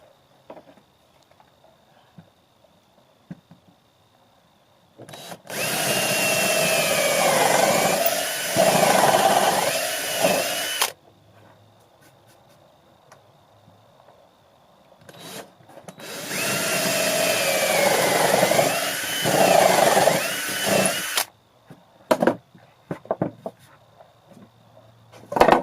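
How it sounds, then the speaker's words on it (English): A power drill bores holes in plywood for a reclaimed-wood phone stand, with two loud, sustained bursts of whining motor several seconds apart and quiet handling sounds between them. "Now this is the plywood, drilling 4 holes in the middle."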